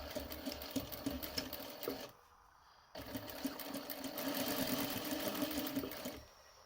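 A sewing machine stitches a paper bag pocket in close, rapid runs, pausing briefly in the middle before the steady whirring resumes and then stops near the end.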